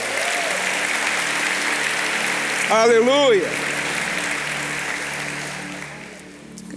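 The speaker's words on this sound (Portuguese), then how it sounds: "Você pode dar mais um forte aplauso ao Senhor?" A church congregation gives loud, sustained applause in praise during a service. The clapping is dense and continuous, and a single voice shouts briefly above it midway before the applause tapers off.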